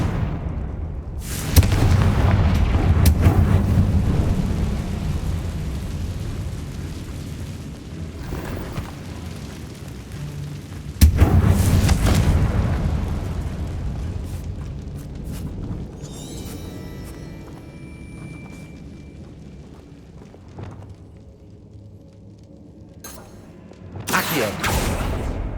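A Confringo blasting spell in Hogwarts Legacy goes off as a sharp, loud explosion, a second big blast follows about ten seconds later, and a further burst comes near the end, each one trailing into a long, rumbling, crackling decay.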